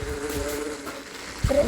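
Bees in the Minecraft video game give a steady, close electronic buzz with a low hum underneath, and a brief louder blip near the end. No one speaks.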